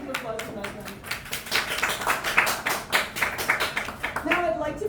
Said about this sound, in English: We're going to have another round of applause tonight.